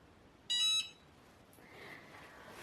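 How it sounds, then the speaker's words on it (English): A Cricut mug press gives a single short, high electronic beep to signal it has finished pressing, clear and brief over a quiet room hum, with no speech. "So that little beep lets us know that she's done"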